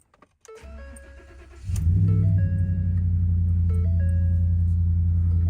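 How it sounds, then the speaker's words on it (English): A V8 truck engine starts up nearby after a brief starter crank and settles into a loud, steady, deep idle rumble, with a few high electronic warning chimes sounding over it. "Nothing sounds like a V8"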